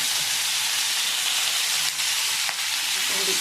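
Fenugreek greens hitting hot oil with chopped tomato in a home kitchen pan, giving a steady, loud broadband sizzle that holds throughout with a couple of brief crackles.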